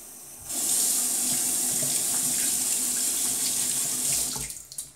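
New shaving brush rinsed under a running tap: a steady, close hiss of flowing water for about four seconds, starting and stopping abruptly, with no talking.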